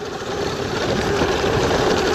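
A Sur-Ron electric motorbike is ridden off-road, giving a steady, loud, dense whirring rush with wind-like noise and no breaks.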